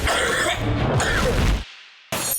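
A short burst of coughing or throat clearing from a person in a cough-medicine advert, fairly close and loud for about a second and a half, followed by a brief silence.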